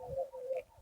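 A short bird call in the Dihing Patkai rainforest in Assam, a soft cooing tone repeated twice in under a second, fairly faint with quiet background.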